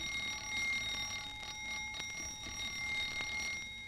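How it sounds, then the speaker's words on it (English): A house's front doorbell rings in a circa-1931 radio comedy sketch: a steady electric bell rattles without a break for about four seconds, bright and fairly close, with no voices. "The sketch opens with the ringing of the Guttenheimers' front doorbell."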